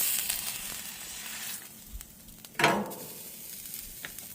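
A second smash burger patty hits a hot griddle with a sudden loud hiss that settles into a steady sizzle, alongside scraping of a spatula in a home cooking setting.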